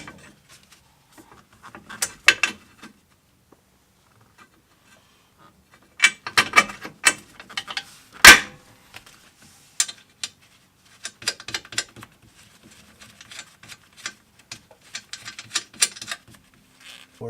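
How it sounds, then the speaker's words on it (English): Quarter-inch drive ratchet on an extension being clicked during a down spring install on a Subaru Forester XT, with bursts of rapid pawl clicking separated by pauses and a few sharper metallic knocks, close and fairly loud. "Quarter driver ratchet extension here to feed it through"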